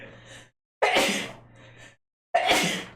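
Two sharp sneezes at close range, each starting with a quick inhale and then a bright burst, separated by a short pause, with quieter breathing sounds between them.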